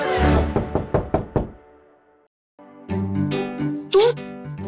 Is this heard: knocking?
yes